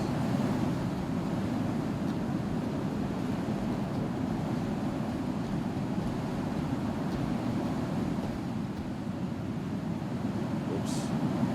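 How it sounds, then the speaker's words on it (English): Steady, dense wind roars through the whole stretch in the space game Star Citizen, a dusty, blowy gale sweeping a foggy surface, with no pauses or gusts standing out from the constant rush. "So windy, we're getting like this dusty,"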